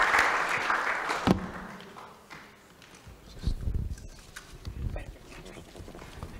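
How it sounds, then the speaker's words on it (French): A burst of audience applause at a postal innovation forum, a dense wash of clapping at first that quickly thins to scattered claps and shuffling noises. "je vous demanderai de bien vouloir les applaudir"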